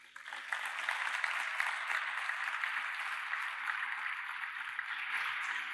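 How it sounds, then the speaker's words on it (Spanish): An audience at a Spanish presentation of the MFT01 Phoenix Formula Student car gives a strong round of applause. The clapping swells quickly and holds as a dense, even patter throughout. "que por favor un fuerte aplauso."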